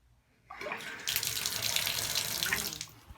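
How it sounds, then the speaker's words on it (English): Water gushes steadily from a Kohler shower tap after a brief quiet start, a loud continuous splashing rush close by that holds to the end. "Let's turn the water on"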